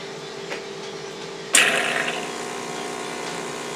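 A La Spaziale Lucca S1 espresso machine sputters with a sudden burst of hissing, spitting air and water, loud and close, before settling into a steady mechanical hum with no talk.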